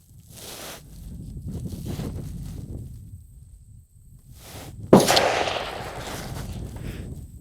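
A single sharp rifle report from a .223 loaded with Norma 77-grain match ammunition, fired prone at a steel target 600 yards away. Gusty wind and rustling surround it outdoors, and a short decaying echo follows.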